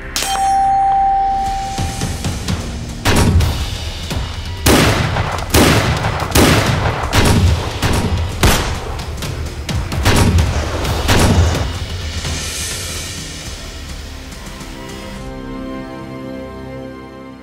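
Rifle shots from a sniper firing precision rounds, about nine loud sharp reports with metallic ringing. They come in an irregular series and stand alone, with no talk.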